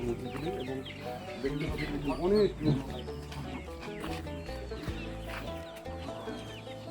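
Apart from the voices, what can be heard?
chickens clucking on an organic farm in Nepal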